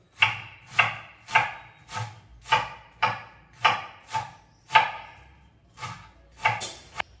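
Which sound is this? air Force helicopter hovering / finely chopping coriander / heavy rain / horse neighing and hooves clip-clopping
finely chopping coriander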